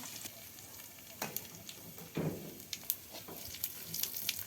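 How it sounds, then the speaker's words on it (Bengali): Chopped onion and garlic with a bay leaf sizzle in hot oil for tempering lentil dal, a soft, fairly faint crackle punctuated by scattered clicks of stirring. "ডালে বাগার দেওয়ার জন্য গরম তেলে পেঁয়াজ কুচি আর রসুন কুচি দিয়ে দিল"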